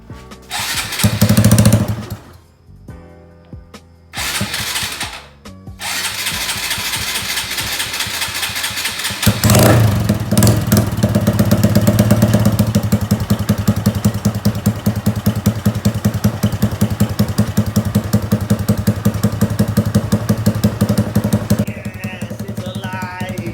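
A Honda Grom motorcycle with a newly installed cam starts up after a few loud cranking bursts separated by pauses, then settles into a loud, close, rapidly pulsing idle that sounds slightly uneven and continues steadily to the end.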